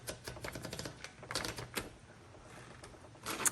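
A 1935 Corona Silent typewriter is typed on in quick, muted bursts of keystrokes. After a short lull comes another cluster of key strikes, close and fairly quiet.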